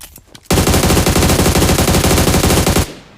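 Sustained automatic gunfire from the BGMI mobile game on the Livik map, a loud, dense burst of rapid shots lasting over two seconds, close and overpowering, followed by a quick fade.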